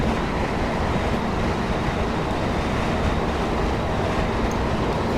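A Class 319 electric train running in Train Simulator 2019 on a route to Gatwick Airport gives a steady, loud rolling rumble with continuous wheel and track noise and no talk.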